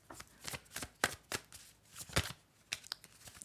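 A deck of tarot cards shuffled by hand, close and quiet, in uneven rapid riffles and soft slaps with short pauses between.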